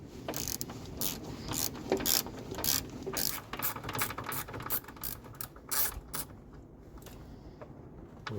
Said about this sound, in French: je vais serrer maintenant cet écrou là pour désaccoupler l'entrée d'air